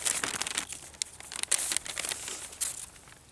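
Paper is crumpled and crinkled by hand to light a fire, a close, busy crackling rustle with sharp irregular crunches throughout.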